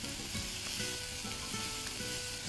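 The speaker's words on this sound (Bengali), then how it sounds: "এটা একটু ভালো করে ভেজে নিতে হবে" Chicken pieces frying in a pan with a little salt give a dense, continuous close sizzle with a faint stirring scrape, steady and loud throughout, no talking.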